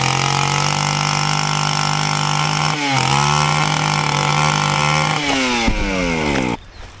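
A cheap saw revs while cutting rotten deck wood, its engine whine steady and loud, briefly dipping and recovering mid-cut before cutting off near the end, with no talk.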